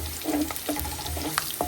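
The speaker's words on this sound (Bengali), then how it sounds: "রসুনটা ভাজা ভাজা হয়ে গিয়েছে" Chopped garlic sizzles and fries in hot oil in a pan, with a steady close crackle broken by a few brief stirring scrapes, and no one talking.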